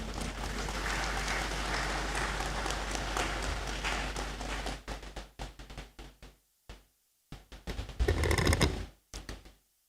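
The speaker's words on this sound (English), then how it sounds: "Please, a round of applause." A round of applause fills the Great Hall at a university congregation ceremony, dense clapping for about five seconds that then breaks into scattered, sporadic claps with silent gaps and a short final flurry.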